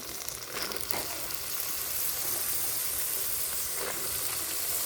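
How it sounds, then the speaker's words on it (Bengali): Tilapia fish fry in hot oil in a pan, giving off a steady, fairly quiet sizzling hiss with occasional spitting crackles throughout. "মাছগুলো ভাজি ভেজে নিচ্ছি"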